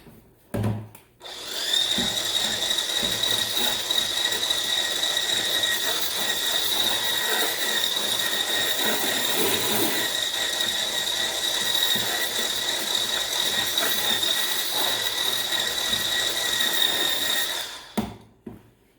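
Handmade soap mixture whisked steadily with a continuous, close mechanical whirring hum, even and unbroken for most of the stretch before stopping abruptly; a power mixer is the likely tool, though it is not named.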